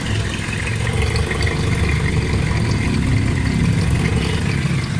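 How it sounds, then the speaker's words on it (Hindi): A Suzuki Cultus EFI car engine running steadily after piston ring fitting, with the silencer not yet fitted, a loud, continuous rough drone with no pauses. "माशाल्लाह गाड़ी स्टार्ट है ज़बरदस्त है।"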